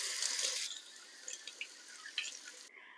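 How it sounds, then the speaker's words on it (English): Water runs from a tap over hands in a sink. The flow is louder for the first half second, then settles into a softer stream with small splashes before it stops abruptly. "let's wash our hands"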